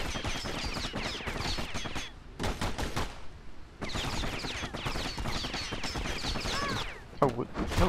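Enemies shoot in the video game Bastion, a dense stream of rapid, sharp projectile bursts and crackling impacts in clusters, with short gaps and loud game effects throughout.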